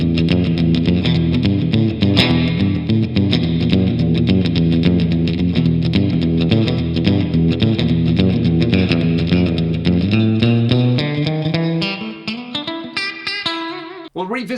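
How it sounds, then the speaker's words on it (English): Electric guitar on the bridge pickup, played through a cheap 50W gigging amp with plate reverb set darker. It gives sustained, driven chords with a lush reverb tail, then slides and trails off into the decay near the end. "plate's a little darker to my ears anyway, which I kind of like in general with reverb"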